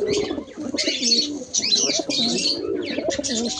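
White lokka pigeons cooing at a home loft beside a newly hatched chick, with repeated soft throaty coos and scattered chirps close to the microphone, steady across the few seconds.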